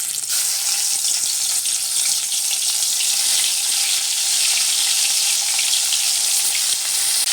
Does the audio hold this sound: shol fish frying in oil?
yes